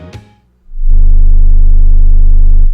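A deep, buzzy low-frequency test tone of 20 hertz swells in and drones steadily and loudly for about two seconds, then stops abruptly.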